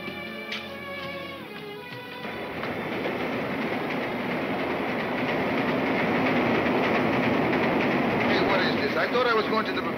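A train rolls along the rails with a building rumble and rattle that grows louder and steadier over several seconds, with a brief tonal sound at the start.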